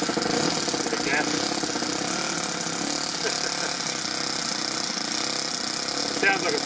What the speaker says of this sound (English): Sounds like a 4-stroke as well, eh?